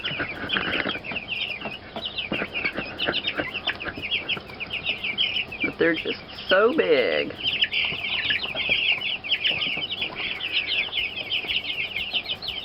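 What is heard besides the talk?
chickens clucking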